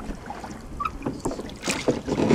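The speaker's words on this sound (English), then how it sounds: "This is Michael rowing the boat." Oars splash and knock against lake water in uneven strokes as a boat is rowed in the Lake District, with wind buffeting the microphone and gentle lapping close by.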